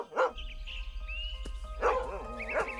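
A dog barks in short separate bursts near the microphone, one bark at the start and a couple more toward the end, over a low steady hum with a faint whistle-like tone between barks.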